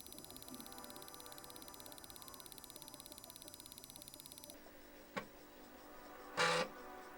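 An Atari 260ST double-sided floppy drive formats a disk: a steady, rapid mechanical ticking runs close and even for several seconds, then gives way to a quieter hum broken by a couple of sharp clicks and a short louder burst.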